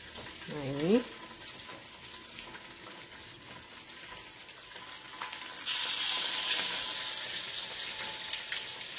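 Ayam kandar (kandar chicken) fries in hot oil and is turned over, giving a soft, steady sizzle and hiss with a brief clatter near the start and a brighter burst of frying later on.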